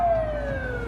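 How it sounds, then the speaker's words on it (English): American emergency siren, a loud, close wailing tone sliding steadily downward in pitch over a low road rumble, heard alone with no talk. "And now this is some American sirens."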